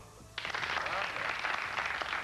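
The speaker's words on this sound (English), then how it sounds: "Simon says, start applauding." Audience applause breaking out suddenly after a brief pause, a dense wash of clapping filling the room at steady loudness, with faint voices underneath, during a Simon Says game with an entertainer.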